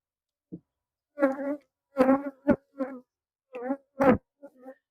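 Honey bees buzz in short, close, intermittent bursts during a winter hive inspection in the southern US, each buzz rising and fading as bees pass near, with quiet gaps between and no speech.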